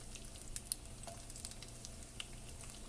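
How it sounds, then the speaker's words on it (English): Dried fish frying lightly in oil in a pan gives a faint, soft sizzle with scattered pops and crackles, quiet and close, with no voices. "you don't want to over fry this kind of dried fish because it's gonna get stiff and hard"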